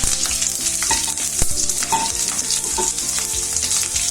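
Green chillies drop into hot oil with crackling mustard seeds, a close, steady sizzle with busy spattering and a few sharp pops.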